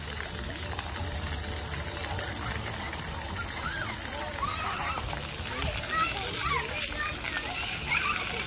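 Children splash and play in water at a splash pad on Memorial Day, constant gushing spray with scattered kids' shouts and adult talk mixed throughout.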